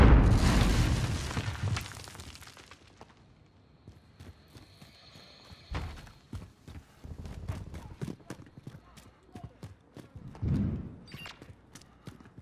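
A heavy grenade explosion in the video game Call of Duty: Modern Warfare opens with a loud, long rumbling blast that fades over a few seconds, then rapid clattering footsteps, a second boom, and voices in the background.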